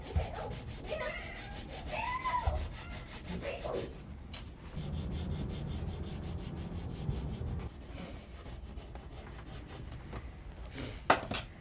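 Hand sanding with sandpaper on a boat's fairing compound, a steady close scratchy rubbing that runs in long continuous strokes, with a few clinks and knocks near the end.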